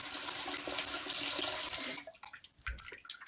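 Hot water pours and splashes in a steady rush into a bowl as objects are submerged, then cuts off after two seconds into a few brief sloshes and drips.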